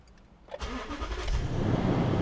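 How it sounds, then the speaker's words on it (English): A used car's engine starting: a brief cranking catch, then the motor fires and settles into a rising, steady close-up running rumble that grows louder and fuller. "When we start the car, we should be able to see that there are no trouble codes."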